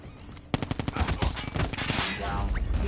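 Rapid bursts of Cordite gunfire in Call of Duty Mobile, fired from the hip, starting abruptly and hammering out a fast, close run of loud shots over continuous game noise.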